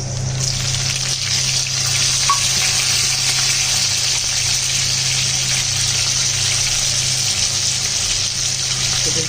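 Chopped onions deep frying in hot oil for South Indian sambar, giving a steady, loud, continuous sizzle and hiss that holds evenly throughout without breaks.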